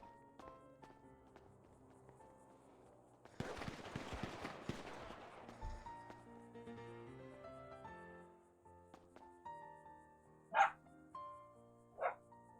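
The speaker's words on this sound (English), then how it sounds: "There's lots of dogs around here." Dogs barking in a GTA online roleplay game world, a few short distant barks late in the stretch over quiet game ambience and a burst of rustling movement.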